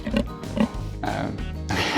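A person imitates a pig, voicing a few short nasal oinks in quick succession, close and fairly loud, with brief spoken bits mixed in.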